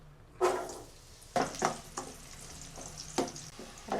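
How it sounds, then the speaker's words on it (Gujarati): Carrots and potatoes frying in a couple of spoons of oil for a shahi pulao, with soft crackling sizzle and several short bursts as pieces are stirred or added, close but fairly quiet, with no talking. "હવે આપણે આ બટેટા ને ગાજર બે ફ્રાય કરી લેશું"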